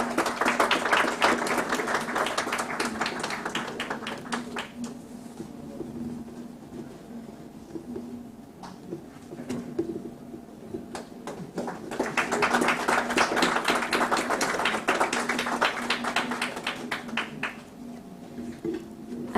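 An audience claps at the Nepal Investment Summit 2024, two bursts of dense applause in a hall separated by a quieter stretch of scattered claps, close and sustained.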